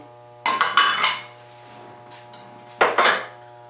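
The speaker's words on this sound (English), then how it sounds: "Gonna mix this all up together." Two bursts of metallic clanking as a utensil scrapes and knocks around inside a pot of water and sazon seasoning, with a quiet pause between them.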